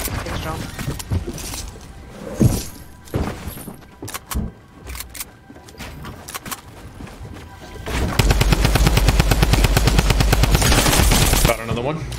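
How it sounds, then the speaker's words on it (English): Rapid gunfire in a Fortnite Battle Royale match, with scattered shots early on, then a loud, sustained burst of repeated shots near the end, mixed with a player talking. "Someone's sniping at me now?"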